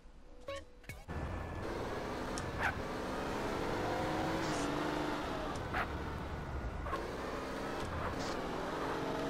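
Car driving in GTA San Andreas, a steady engine drone that holds at an even level after a few brief knocks at the start.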